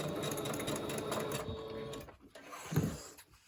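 A sewing machine stitches brown thread around a paper craft page, a steady mechanical whirring rattle for about two seconds that then slows, pauses and ends with a few short bursts.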